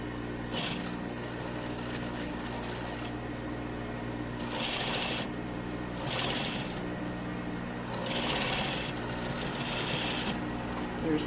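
A sewing machine runs in steady bursts while understitching a polo shirt placket at 1 to 2 millimeters, its needle clatter rising and falling between brief slowdowns, close and fairly loud.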